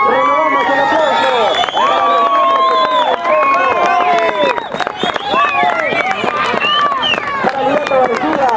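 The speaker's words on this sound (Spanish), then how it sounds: "Renovamos el aplauso." Crowd at a car rally event, the Vuelta de la Manzana, claps and cheers steadily over a mix of loud babble and whistle-like tones, continuous and close throughout.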